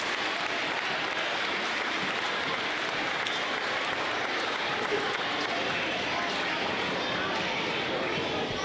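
An audience applauds MAP Growth Award winners at a school awards ceremony, with dense, continuous clapping holding an even level throughout and no break.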